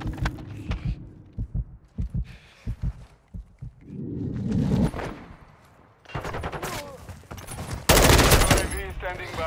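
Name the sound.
gunfire in Call of Duty video game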